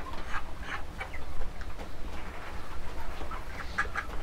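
Broiler chickens crowded in a poultry shed on a hot day, a low continuous murmur of clucking and soft calls with occasional sharper chirps, mixed with steady fan-like hum.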